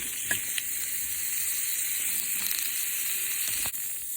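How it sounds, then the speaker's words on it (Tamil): Thin round slices of baby radish sauté in a kadai with a constant close hiss and sizzle. A few soft taps of the spatula sound at scattered moments. "ரவுண்ட் ரவுண்டாக தின் ஸ்லைசஸாக கட் பண்ணி கடாயில் நல்லா வதக்கணும்"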